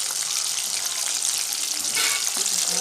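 Chicken pieces for chicken sukka frying in a pan, a steady broadband sizzle that holds throughout with a slight surge near the middle, close and fairly loud, no voices.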